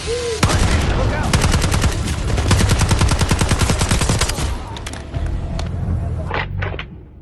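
Rapid machine gun bursts with dense, rhythmic cracks from the video game Sniper Ghost Warrior, loud and continuous for several seconds, then tapering into scattered shots and booms.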